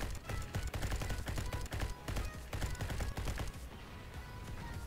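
Continuous heavy gunfire in the Thunder Guard mobile war game, dense rapid bursts of shots rattling on without pause, loud and busy with layered battle noise.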